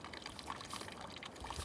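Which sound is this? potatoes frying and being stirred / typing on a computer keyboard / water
water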